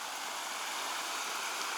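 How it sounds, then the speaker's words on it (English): A waterfall along a hiking trail rushes as an even, unbroken hiss, with no voices. "Oh wow, it is a waterfall."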